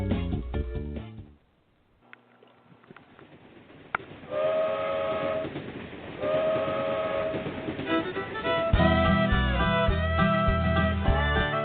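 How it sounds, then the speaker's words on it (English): A train sounds its whistle in sustained tones, with a rumbling stretch of rail noise between blasts, heard in a narrow, broadcast-like recording without speech. "The bluegrass trains are coming from Beaverdale down to Alabama."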